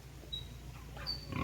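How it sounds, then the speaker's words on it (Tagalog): A pig on a farm grunts faintly a couple of times over low background noise, brief and close. "So na isa ka baboy gayo sige nagungad."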